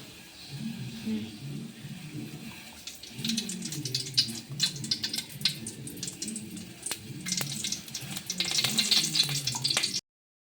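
Vermicelli fries in a pan for beetroot payasam, a steady crackling sizzle with occasional stirring scrapes that grows busier and louder toward the end.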